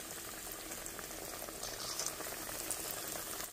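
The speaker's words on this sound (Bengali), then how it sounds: "এটা কিন্তু পেঁয়াজুটা, এটা কিন্তু মিডিয়াম জালে ভাজতে হবে" Onion fritters (piyaju) frying in oil over medium heat, a soft, steady bubbling sizzle with a dense crackle that holds evenly throughout, close but fairly quiet and with no talk.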